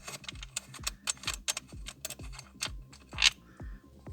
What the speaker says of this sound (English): with one hand support the glove box, just remove the bolts